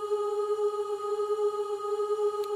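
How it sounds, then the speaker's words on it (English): A steady 417 Hz Solfeggio tone at G sharp 4, a pure sustained pitch with faint overtones, held evenly and alone without any voice, apart from a tiny click near the end. "417 hertz, okay, on the Solfeggio scale is really about undoing situations that"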